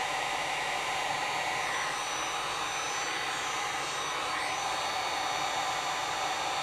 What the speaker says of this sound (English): So I heat shrink that up good too.